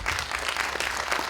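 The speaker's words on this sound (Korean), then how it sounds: "다시 한번 세 분께 박수 부탁드리겠습니다." Forum audience clapping for three speakers at the close of a session of a farmers' forum, dense even applause sustained throughout.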